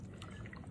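Hot water pours into a jar of chicken being prepared for canning, a soft, close trickle of liquid that lasts under a second.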